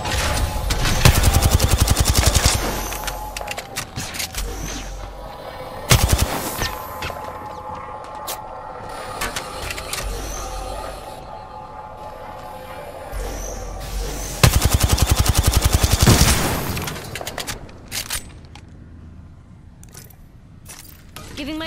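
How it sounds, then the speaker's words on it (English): Gunfire in Apex Legends: loud bursts of automatic fire come in several clusters, with single shots and quieter stretches of mechanical hum and clinks between them, and game voices talk now and then. "Some plunkers shooting at me."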